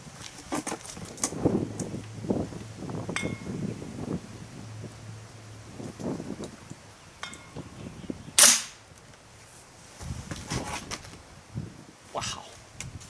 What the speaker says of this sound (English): going to shoot right at the handle. I want to see how much impact this thing has